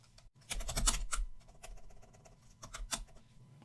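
A computer keyboard is typed on in short bursts of quick, soft key clicks, close and fairly quiet, with brief pauses between bursts and no speech.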